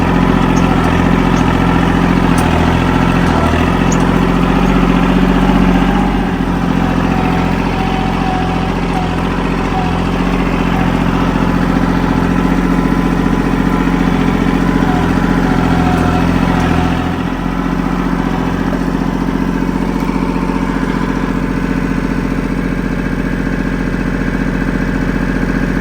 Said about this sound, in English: let's take a tractor ride back in the woods and see what we're looking at back there.